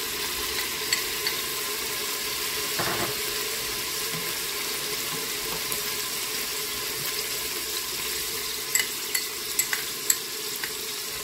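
Sliced onion frying in hot oil in a home kitchen, cooked as the first step of Moroccan harira soup; a steady, fairly close sizzle runs throughout, with a brief clatter near the start and a few light knocks toward the end.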